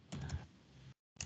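Brief typing on a computer keyboard while entering a browser address: a short run of quiet clicking keystrokes, a pause, then one more keypress.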